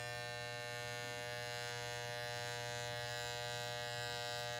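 Electric hair clipper buzzing steadily during a haircut, its motor whine continuous and close with a low hum underneath, no talking.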